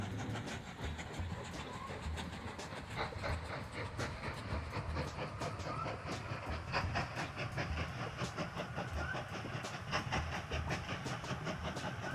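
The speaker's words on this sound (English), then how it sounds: "I'm going to let you guys ride back and forth in the train." Train rolling along rails in the video game Mashinky, a steady, moderately loud rumble with a continuous rhythmic clickety-clack of wheels running through the whole stretch.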